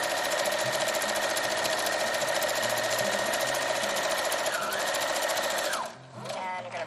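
A sewing machine runs continuously at stitch length 2.5 while sewing a fabric face mask for hospitals, a loud, close, steady whirring hum that stops near the end, followed by some lighter handling noise.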